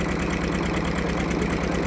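A river launch's engine runs on the water at Kaikhali in the Sundarbans, a close, steady, rhythmic throb with a low knocking pulse and no voices.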